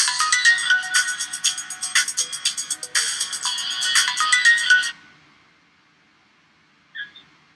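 A telephone ringtone plays loudly with a repeating electronic melody for about five seconds, signalling an incoming call during a Congolese call-in broadcast, then cuts off, leaving near silence and a faint short blip.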